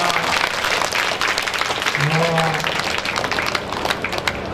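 An audience at a Bhagwat katha gives loud sustained applause for a devotee of God, dense clapping throughout with voices calling out beneath.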